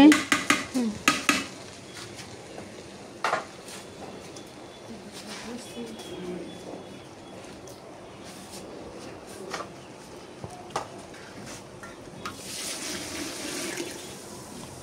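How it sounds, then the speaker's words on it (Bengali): Rice fried in a pot on a clay stove gives faint scraping, stirring and clinking of utensils against the pot, with a few louder metal knocks early on and a low steady background while someone speaks. "চালগুলো ভাজা হচ্ছে।"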